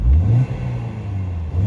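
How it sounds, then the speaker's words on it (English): A 2004 Mini Cooper R50 with the 1.6 engine revs quickly at close range: a loud, steady engine drone that briefly rises and dips, with no talking. "I'll just give it a quick rev for you so you can hear the engine."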